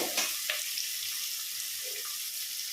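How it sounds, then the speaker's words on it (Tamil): Onions sautéing in a pan for vegetable biryani give off a faint, steady sizzle and hiss with a few soft stirring touches, with no talking. "இப்போ வெங்காயம் கொஞ்சம் வதங்கிடுச்சு."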